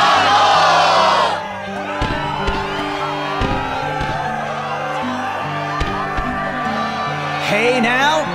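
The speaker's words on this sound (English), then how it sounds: "the crowd is fired up, so you know what comes next" Arena crowd at the Struggle tournament in Twilight Town in Kingdom Hearts 2 Final Mix roars loudly for about a second. Music and game sounds take over, then the cheering swells again near the end.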